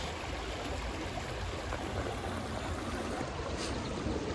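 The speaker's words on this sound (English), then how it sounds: "And look how easy it's flowing too" A forest stream flows steadily by the water, making a continuous soft, broadband rush and trickle, even and unbroken, with no voices.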